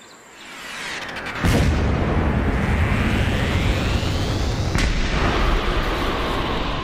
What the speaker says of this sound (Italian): C'è stata una potente esplosione nel regno sotterraneo.